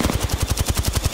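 Rapid automatic gunfire from a video game rattles in a steady, even burst of about a dozen shots per second, loud and close with no voices.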